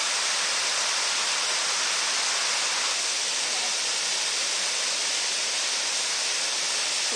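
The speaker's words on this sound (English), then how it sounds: "That's a beautiful little staircase waterfall." Continuous rushing water of a small staircase waterfall in the Canadian Rockies, a dense and steady hiss, close and loud with no pauses.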